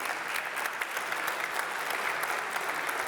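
At a peace culture forum in Guadalajara, an audience claps for a polytechnic university delegation, a steady, even patter of many hands, moderately loud and continuous throughout.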